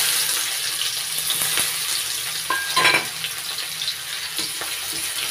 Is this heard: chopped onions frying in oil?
yes